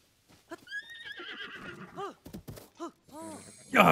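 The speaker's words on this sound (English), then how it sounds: "He's a pitch black horse." A horse in The Legend of Zelda: Tears of the Kingdom whinnies in a rising, quavering call, followed by snorts and a few short nickers, clear and close against a quiet background.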